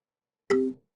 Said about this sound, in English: that second trade noise you hear there is the delta hedger coming in and hedging some of that delta